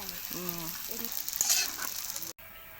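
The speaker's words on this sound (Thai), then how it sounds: "จะทอดให้มันเหลืองเหลือง ลักษณะซิกเนเจอร์ เดียวกับปลาดุกฟู" Tofu frying in hot oil until golden, a steady bright sizzle running throughout with a brief louder crackle, heard close and without talk.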